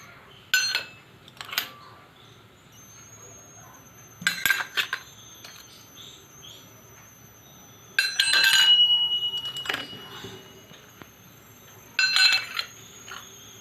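A metal spoon clinks and scrapes against a bowl while mixing herbs, in several short bursts of rattling taps separated by quiet pauses, close and fairly crisp.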